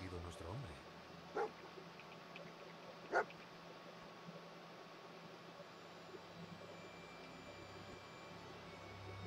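A companion dog in Fallout 4 gives two short, fairly faint barks about two seconds apart over a steady low background hiss.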